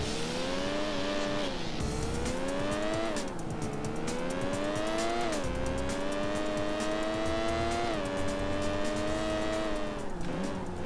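Porsche 911 (996) racing in Need for Speed: Porsche Unleashed, its engine wailing loud and steady as it climbs through the gears with repeated rises and drops in pitch, with a brief tire squeal. No one speaks.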